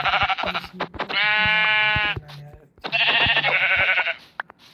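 Sheep bleat in the Minecraft video game, with two long wavering bleats separated by a short gap. Clicky game effects sound around them.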